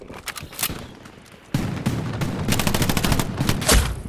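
Heavy gunfire in Hell Let Loose, loud rapid bursts of shots cracking in quick succession, with a fuller, denser volley kicking in halfway and continuing to the end.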